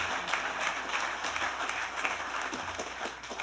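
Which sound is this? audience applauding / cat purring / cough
audience applauding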